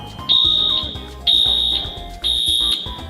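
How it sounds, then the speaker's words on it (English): A smoke and fire alarm sounds in a Newark EWR airport terminal, three loud, piercing shrieks in an even on-off cycle that fill the hall, with no one speaking. "This is now the second time the alarm has gone off in EWR."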